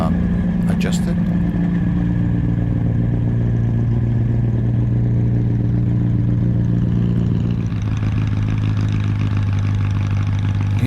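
Race car fitted with a Kawasaki engine running on the Mettet track, a loud steady engine drone held close throughout with a slight drop in pitch near the end, with a voice talking over it.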